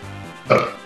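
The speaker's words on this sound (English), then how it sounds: "but I did burp and it did feel good." A single loud burp erupts about halfway through, a short throaty belch rising out of quiet room tone and trailing off.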